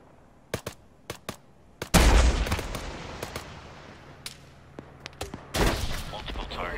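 Gunfire during a military operation in a video game: scattered sharp single shots, then heavier bursts and a loud crack, some near and some distant, with radio-style voices talking between them.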